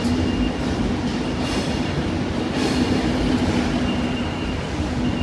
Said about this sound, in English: there it comes. Virgin from London Euston.